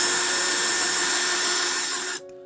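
A power drill whines steadily and loudly as it bores into a diecast toy car, the motor running at a constant pitch for about two seconds before cutting off abruptly.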